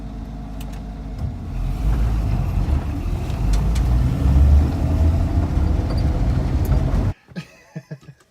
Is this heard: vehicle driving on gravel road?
yes